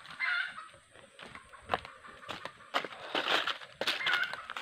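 Wild jungle fowl calling in the forest, a series of harsh, honking squawks and clucks at moderate distance, irregular bursts amid quiet background.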